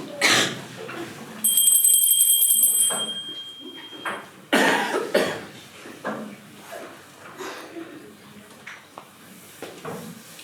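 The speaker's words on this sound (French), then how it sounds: "Ma sonnette ne fait pas assez de bruit." A small bell rings in a brief rapid jingle, followed by a second short ring, amid rustling, a cough and quiet movement sounds.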